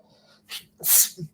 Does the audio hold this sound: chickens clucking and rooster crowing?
no